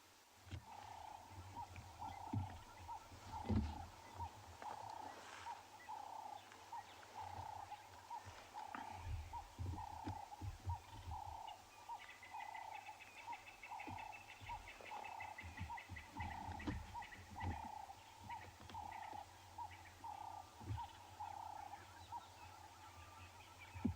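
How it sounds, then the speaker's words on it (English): Cape turtle doves call repeatedly in the African bush of Ngala Private Game Reserve at sunrise, a steady rhythmic cooing at moderate distance over a low hum and other wild animal sounds. "The main sounds we can hear are always the Cape turtle doves this time of the day."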